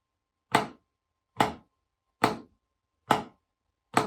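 Snare drum flams with medium grace-note spacing ring out five times at a steady pace of roughly one per second, sharp and close, with quiet gaps between each stroke.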